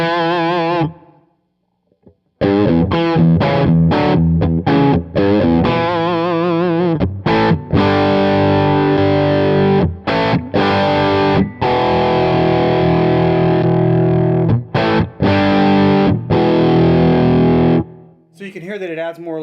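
An electric guitar plays through a Beetronics Overhive overdrive pedal while its body switch is swept back and forth, giving loud, gritty, sustained chords with brief gaps, close and alone.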